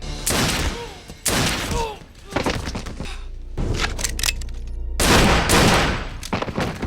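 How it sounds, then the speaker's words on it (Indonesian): Gunfire in a tense action film scene, a man shooting his own henchmen: loud cracking bursts of shots and impacts in several clusters, with some voices mixed in. "Donnie langsung menembak mereka karena menganggap mereka tidak berguna"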